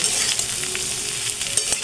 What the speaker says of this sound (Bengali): এইবার বেশ কিছুক্ষণ ধরেই পটলটা ভাজা হবে